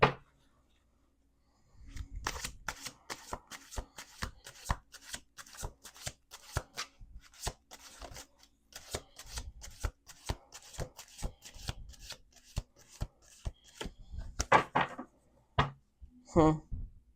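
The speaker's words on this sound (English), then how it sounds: "One last shuffle." Tarot cards being shuffled by hand, a long run of quick crisp riffles and slaps in a steady rhythm, close and fairly loud, with soft rustling between bursts and no voices.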